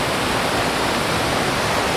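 Kiwai waterfall near Naran Kaghan pours down in a steady, loud, dense roar of falling water with no breaks or other sounds.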